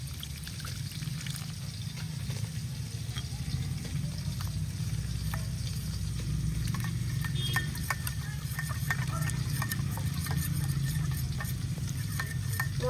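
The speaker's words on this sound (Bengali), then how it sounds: "মশলাগুলো ভালোভাবে মিশিয়ে নিতে হবে এইভাবে।" A spice gravy of turmeric, Kashmiri chili, coriander and cumin powders loosened with a little water is stirred in a pan for Bengali fish curry, giving a steady scraping and soft sizzle throughout, with no talking.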